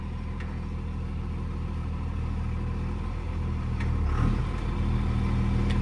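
A second-generation Cummins diesel pickup with an NV5600 manual gearbox idles in a steady, close, low rumble, with a brief clunk and slight swell near the end as it is shifted into reverse.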